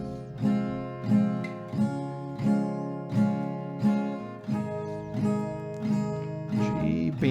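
Acoustic guitar strums steady chord downstrokes in an even four-per-chord pulse, each stroke a bright, close full-chord hit, about ten strokes with no voice over them.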